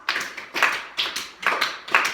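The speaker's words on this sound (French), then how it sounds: "Applaudissez-vous 5 fois" A French language class claps together five times in quick succession, each burst a short cluster of overlapping hand claps with brief gaps between them, close and fairly loud.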